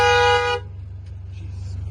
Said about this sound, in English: Yeah, these horns are loud on these cars.